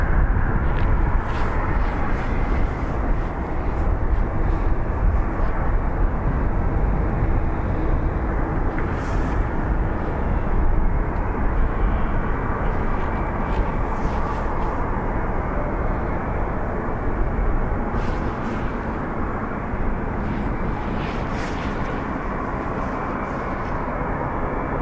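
Airliner engines spooling up for departure at Dublin Airport, a steady, loud broadband roar that holds throughout with no talk over it.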